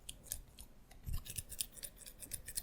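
Scissors snip repeatedly in quick, uneven cuts, close and crisp in a quiet binaural ASMR setting, with no talking.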